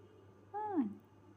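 A domestic cat gives a single short meow with a rising then falling pitch in a quiet indoor room, close to the listener, with near silence before and after it.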